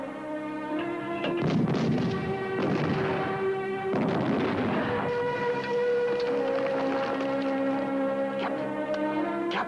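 Artillery firing in a battle scene from a 1969 feature film about the Battle of El Alamein, heavy booms and rumbling blasts repeated every couple of seconds over a sustained, droning tonal background.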